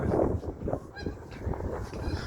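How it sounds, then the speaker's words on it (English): Geese flying north in early spring near a train station give several loud honks in quick succession, close and overlapping, with no talk. "the geese are starting to head back north"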